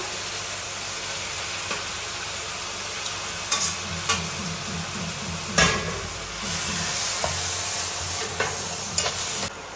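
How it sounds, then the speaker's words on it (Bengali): Chopped onion frying with chili paste and ginger-garlic paste, a steady sizzle broken by several louder stirring scrapes and clatters close by. "হালকা করে পেঁয়াজটাকে ভেজে দিলাম। এতেই দিয়ে দিলাম মরিচ বাটা, আদা রসুন বাটা"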